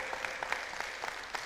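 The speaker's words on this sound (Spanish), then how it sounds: "Denle un aplauso a nuestro Jehová Jireh," A church congregation claps steadily, with distinct rhythmic beats rising out of a softer wash of applause, moderately loud and fairly close.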